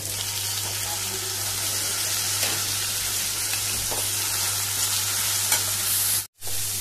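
Shrimps dropped into a hot pan fry with a steady, loud, dense sizzle that continues unbroken, with faint stirring accents and a brief cut-out near the end.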